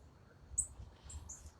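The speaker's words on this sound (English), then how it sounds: "Can you hear the cardinals singing in my lawn?" Cardinals singing outside on a lawn beside a pond give three short, high chirps, faint and somewhat distant, over a low steady background rumble.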